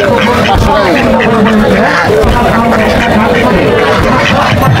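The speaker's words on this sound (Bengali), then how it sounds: "এগুলো কি বাড়ির হাঁস নাকি? জি, বাড়ির হাঁস।" Domestic ducks quack amid the constant hubbub of a busy rural village market, their calls partly buried under crowd chatter and nearby voices throughout.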